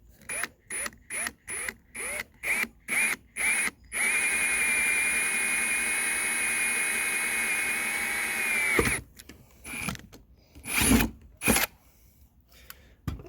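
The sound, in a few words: drill drilling through deck for cable railing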